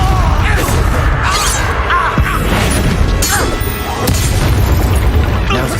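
A Confringo fire spell goes off in the video game Hogwarts Legacy, with booming blasts and crashing impacts over a dense, loud game soundscape of whooshes and hum.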